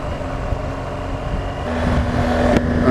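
Motorbike ridden along a road, with steady engine drone and wind rush rising slightly in level toward the end, a brief sharp knock near the close; no talking.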